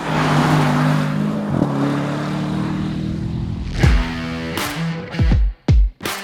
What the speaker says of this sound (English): It's about the sun on your face and that V8 roar all up in your ears.